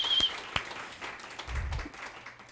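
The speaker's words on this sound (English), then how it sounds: "Let's give a round of applause for the Internet Society of New York." Scattered, fairly faint applause from a small audience at a civic-tech meetup, with a few sharp individual claps near the start and a low rumble of the room underneath, fading toward the end.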